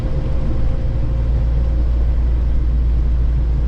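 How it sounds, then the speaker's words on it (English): A Jeep Wrangler YJ with an AX-5 transmission, back on the road after 18 years, drives along with a steady low engine rumble and road drone, the tone holding even throughout with no talk. "But we are out driving the forgotten about Jeep"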